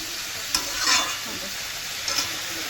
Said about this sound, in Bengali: এইবারে ভালো করে কষাতে থাকবো যতক্ষণ না তেল ছাড়া